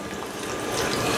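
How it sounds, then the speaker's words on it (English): A spoon stirs canned beef stew mixed with frozen mixed vegetables in a pot, making a brief, continuous wet scraping and sloshing noise with no voices. "So I'm going to go ahead and stir this together."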